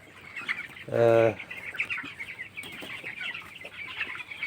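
Seventeen-day-old broiler chickens on a poultry farm, with one loud, clear call near the start rising above a steady low flock murmur that carries on throughout.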